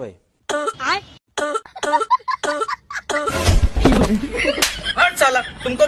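Repeated harsh coughs and throat clearing in bursts, close and loud, mixed with people talking over them.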